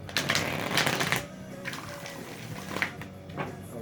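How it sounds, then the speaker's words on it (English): A deck of tarot cards is shuffled close up, a quick riffling flutter for about a second, followed by softer, scattered card rustles and taps. "One more shuffle."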